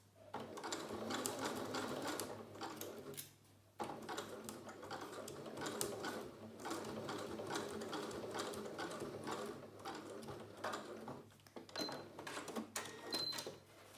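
Close and steady, a sewing machine runs down the seam of a fabric face mask with a rapid ticking clatter and a low motor hum, pausing briefly twice before resuming.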